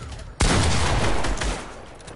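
A submachine gun fires in a video game at close range: a sudden loud burst begins early and then continues as dense, rapid gunfire with a steady roar that tails off slightly toward the end.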